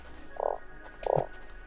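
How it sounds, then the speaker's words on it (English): Frog croaking in the Starsand video game, two short low croaks about half a second apart, fairly close and alone against quiet ambience. "Oh, frog."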